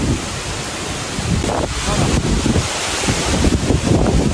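Strong wind buffets the microphone in loud, rough gusts, a constant roaring hiss that swells and falls with no voices.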